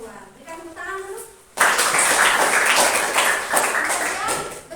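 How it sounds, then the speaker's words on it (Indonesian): Classroom of students clapping hands together on a teacher's cue, a loud burst of group applause that starts abruptly after a brief stretch of speech and carries on steadily to the end. "Berikan tepuk tangan dulu."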